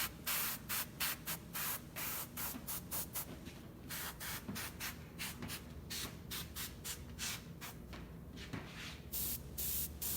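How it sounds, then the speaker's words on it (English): A sprayer mists a whitetail deer taxidermy mount in short, repeated hissing bursts with brief gaps between them, steady and close throughout. "And I'm going to spray from an angle to preserve the flesh in the cracks."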